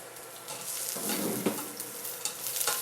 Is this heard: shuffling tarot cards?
no